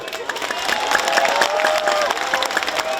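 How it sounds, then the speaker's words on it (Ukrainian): Crowd in Uzhhorod applauding at a public meeting with Ukraine's president, honoring border guard soldiers: steady, dense clapping with some cheering and whistles mixed in, continuous and fairly loud throughout. "Ваші оплески."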